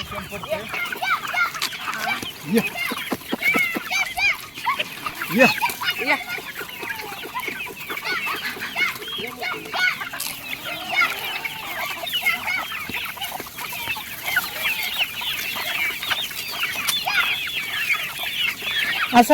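Desi country hens clucking in a pomegranate orchard farm, a steady busy chorus of overlapping clucks and calls close by, with someone talking over them throughout.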